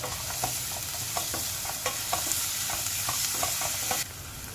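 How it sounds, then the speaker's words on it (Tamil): Sliced onions sauté with salt in a pan for a fried chicken gravy, giving a continuous sizzle with rhythmic scraping stir strokes throughout. The sizzle eases slightly near the end. "உப்பு ஆட் பண்ணால் வெங்காயம் நல்லா சீக்கிரமாக வதங்கிடும்"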